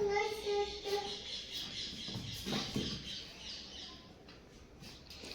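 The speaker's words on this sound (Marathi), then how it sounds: "बाहेर पोपट किती छान आरडत आहे." Parrot calling outdoors, a string of shrill, harmonic squawks and chirps at moderate distance, fading after a couple of seconds amid faint background noise.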